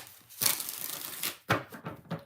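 Tarot cards are shuffled close up in a short burst of riffling, with crisp papery rustles, a pause, then a second quick riffle and a few soft flicks.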